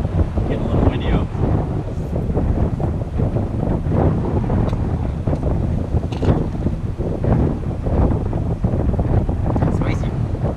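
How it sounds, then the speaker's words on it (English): Strong wind buffets the microphone outdoors, a steady roar with gusts throughout, suggesting open water on a boat. "Getting a little windy out."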